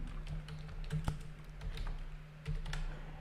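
Typing on a computer keyboard to enter a city name, a quick irregular run of light key taps at close range over a low steady hum, with brief pauses between bursts.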